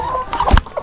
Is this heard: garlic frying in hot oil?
no